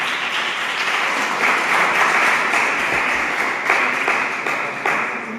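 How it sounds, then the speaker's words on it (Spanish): An audience claps together at a science-and-faith talk as the speaker is welcomed, a dense, steady applause that holds at an even level for several seconds with no voices over it. "Así es que le damos un aplauso."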